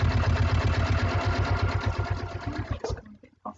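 A sewing machine runs steadily as it stitches binding onto a quilt, giving a loud, fast, even chatter that stops abruptly near the end, followed by a couple of faint clicks.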